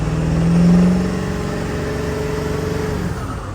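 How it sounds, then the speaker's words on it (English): A van engine revs hard while all of its wheels spin, a loud sustained rumbling drone that swells early and then holds steady. "I'm gonna spin it. Oh my god, it's all wheel spin."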